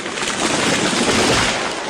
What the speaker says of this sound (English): That was the sound of a tree falling.